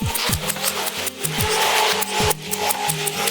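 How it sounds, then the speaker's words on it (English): An English box ball topiary being trimmed with shears, a rapid run of close, crisp snipping cuts through the foliage with rustling leaves between strokes. "It only takes a couple of minutes to trim them up."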